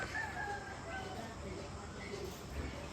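A rooster crows somewhere in a village yard at daybreak, fairly faint and distant, mixed into morning household ambience with other fowl nearby.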